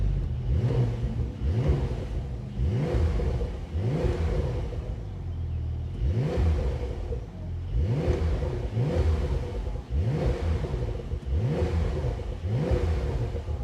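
Brabus-tuned 2023 Porsche 911 Turbo S, 820 hp, in Sport Plus mode with its Brabus exhaust, revved repeatedly against a limiter around 3,500 rpm: about ten rising-and-falling rev bursts in a steady rhythm, loud and close.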